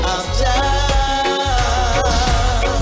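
A reggae music track plays steadily, with full bass, rhythm instruments and sung melody filling the whole stretch at consistent loudness.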